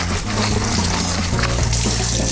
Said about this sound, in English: So you just want to cool them down, but you want to rinse a lot of that starch off.